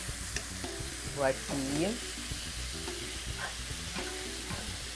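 Thickening shoyu sauce with cornstarch gets stirred in a pan for yakisoba, giving a soft steady scraping with a faint sizzle beneath, while a voice speaks briefly in between.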